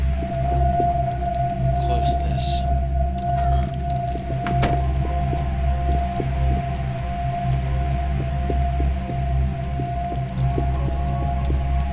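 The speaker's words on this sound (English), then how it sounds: "I hear moaning." An injured suspect moans in the tactical shooter game SWAT 4, a low, drawn-out tonal groan over a steady humming ambience, with a short spoken line partway through.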